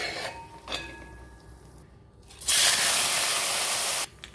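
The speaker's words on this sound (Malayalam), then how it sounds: "ആദ്യം തന്നെ നമ്മുടെ നട്സ് കൂട്ടന്മാരെ ഒന്ന് വറുത്ത് വരാം" Nuts being fried in a pan for mutton biryani: a few faint clinks, then a loud, steady sizzling hiss that lasts about a second and a half and cuts off abruptly.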